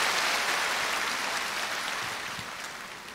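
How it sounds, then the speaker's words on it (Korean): Concert audience in a large hall at a singer's 50th-anniversary performance claps in sustained applause, a dense wash of many hands that fades slightly toward the end, with no voices on top. "큰 박수를 보내주시면 대단히 고맙겠습니다."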